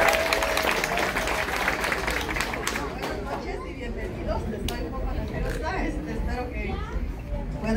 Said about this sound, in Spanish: Los aplausos para la señora Ana, por favor